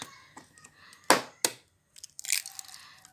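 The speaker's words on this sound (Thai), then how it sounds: "ตอกไข่ลงไปค่ะ" Eggs are cracked into a container of about twenty litres of water to culture photosynthetic bacteria, giving two sharp cracking snaps followed by a wet scraping and splashing rustle.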